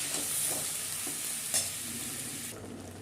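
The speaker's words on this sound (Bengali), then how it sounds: "নুন, দিয়ে ভালো করে নাড়তে চাড়তে থাকতে হবে।" Tomato chutney simmering in a pan with salt, stirred steadily: a continuous soft sizzle with light scraping strokes, close and moderately quiet, no voices.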